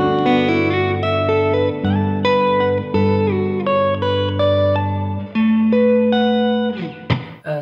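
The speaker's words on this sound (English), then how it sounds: "All we're going to be using for the main part is the compressor with the meris on, with quite a lot of reverb on it" An electric guitar played through a compressor and a Meris pedal, drenched in heavy lush reverb, rings out in clean sustained chiming notes and arpeggiated chords, loud and alone, ending in a few scraped, percussive strums.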